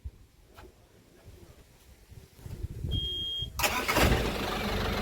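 A vehicle engine starts at a borewell site during removal of a bore motor stuck in mud and stone, roaring up loudly after a quiet stretch of background noise and a brief high whine.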